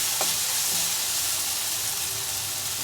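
A pan of spinach dal with tomato sizzles loudly and close, giving a constant hissing fry. A few soft scrapes from stirring come early on, and no voice is heard.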